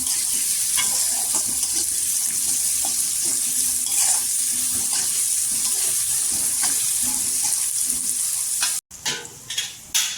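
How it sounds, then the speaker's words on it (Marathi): Chopped onion and green chillies fry in oil in a pan until pink, a loud, steady hiss close by with occasional soft stirring scrapes, cut off briefly near the end before the sizzle resumes. "इथे कांदा गुलाबी कलरवर तेलावर परतून घ्यायचा"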